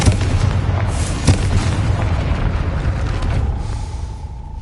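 Confringo blasting spell in the video game Hogwarts Legacy, a loud booming explosion with a sharp crack near the start and a second thud a moment later, fading into a rumbling tail with no speech.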